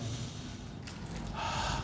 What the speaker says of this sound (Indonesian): Coba ambil napas dalam-dalam